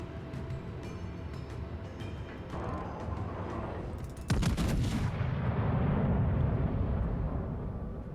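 Warship guns boom in World of Warships, a heavy salvo erupting midway with a loud broadband blast and rumbling tail over constant engine and sea ambience.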